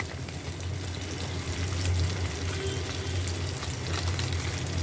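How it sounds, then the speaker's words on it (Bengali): Ground spice masala with Kashmiri chilli powder and cumin frying in a pan for a village-style Bengali fish dish, a close, steady sizzle and crackle with faint stirring scrapes throughout, no talk. "দিয়ে ভালো করে মশলাটা কষিয়ে নেব।"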